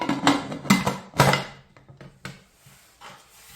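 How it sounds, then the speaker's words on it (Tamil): A pressure cooker lid is handled and closed for a pot of sambar: a few clattering metallic knocks and clicks up front, then softer scattered taps, close and fairly quiet with no talking. "இப்போ மூடிய மூடுவோம்"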